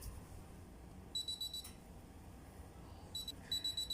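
Short groups of high electronic beeps from a kitchen timer signal the end of baking for a banana carrot cake, two bursts of rapid pulses over a quiet room hum, with no one speaking.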